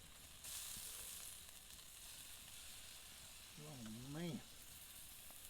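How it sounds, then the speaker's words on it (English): Steak sizzling on a grill over a backyard wood fire gives a steady, moderately loud hiss and crackle that runs throughout, with a brief spoken voice near the start and a short burst of vocal sound near the end. "steak's been sizzling on there for just a couple of minutes."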